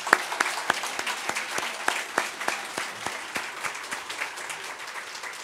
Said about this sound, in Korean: 우리 하나님께 영광의 박수 하십시오